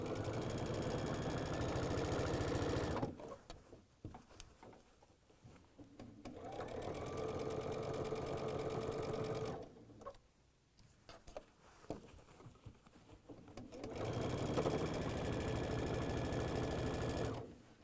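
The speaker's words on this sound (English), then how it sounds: "And I'm going to stitch around that, and I'll be back in just a moment." A sewing machine stitches around the seams of a small quilted basket made from 10-inch fabric squares, running in three steady, close bursts with quiet pauses between them.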